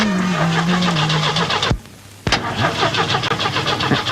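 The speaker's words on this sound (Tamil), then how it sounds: "ஏப்பா டிரைவர், வண்டி எப்பப்பா ஸ்டார்ட் ஆகும்?" A taxi's engine cranks and starts, idling and revving with a mid-pitched hum, breaks off briefly into near silence with a sharp clunk, then starts again and runs on, close and loud.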